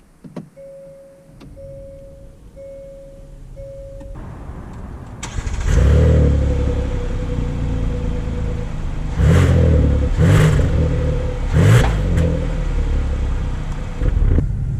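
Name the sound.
2020 Hyundai Palisade SUV setting off driving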